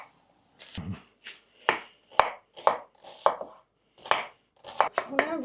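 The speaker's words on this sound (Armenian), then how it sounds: "մեզի հարկավոր է սոխը կտրատենք։ Սոխը պետք է որ լավ մանր արվի" Knife finely chops onion on a cutting board in quick irregular strokes, close and crisp, with short pauses between bursts.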